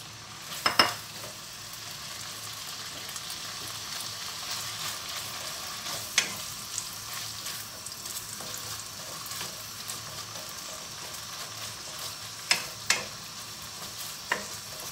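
Chicken pieces frying in a pan for chicken Alfredo penne, a steady close sizzle with occasional clinks and scrapes of a utensil stirring, no voices.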